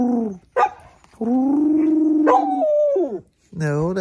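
A dog howls a few short, rising and falling woo-woo vocalizations outdoors in winter snow, loud and close, with brief pauses between the calls.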